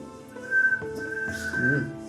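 An improvised flute, freshly carved and still being adjusted, gives a thin, wavering whistle tone for about two seconds, faint and breathy, with a low voice murmuring beneath.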